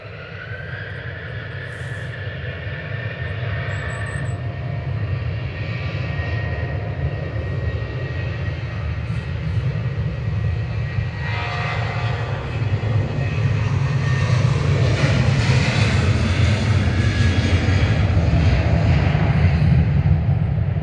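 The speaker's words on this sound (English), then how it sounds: "Ryanair heading off to Dublin." A Ryanair jet airliner takes off at Manchester Airport, bound for Dublin, with a steady loud engine roar that swells over about twenty seconds as the thrust builds.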